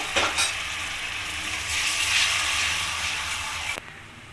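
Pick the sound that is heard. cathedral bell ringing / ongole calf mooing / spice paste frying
spice paste frying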